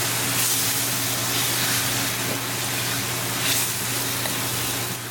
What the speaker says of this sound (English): Now I'm going to bring the meat and mix it well.